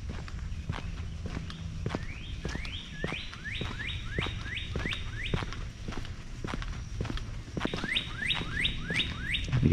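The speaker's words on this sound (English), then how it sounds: "The birds are singing." Birds chirp and sing in repeated rising calls beside a lake, heard amid a steady outdoor hum and regular footsteps along a walking path, with the calls coming in clustered bursts.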